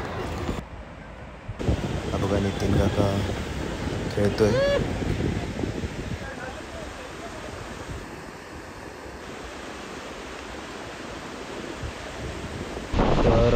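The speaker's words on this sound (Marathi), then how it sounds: "आता आलोय समुद्रावर" Sea waves wash onto a beach at Achara, Malvan at sunset, a continuous broad rushing roar mixed with wind buffeting the microphone, while people talk over it.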